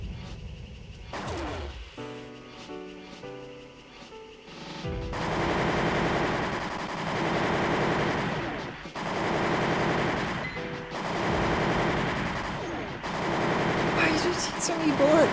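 Sustained, loud machine gun fire from the PlayStation mech game Armored Core: Master of Arena comes in long rattling bursts with short gaps. It follows a stretch of game music and effects.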